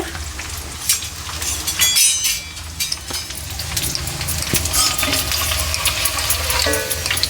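Thin sannakarapusa snack strands deep-frying in hot oil as a Diwali treat, giving a steady, close, crackling sizzle with bursts of bubbling throughout.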